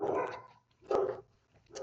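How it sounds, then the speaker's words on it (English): A dog barks in a few separate bursts, fairly close, with short quiet gaps between them and no talking. "sorry for my dogs barking"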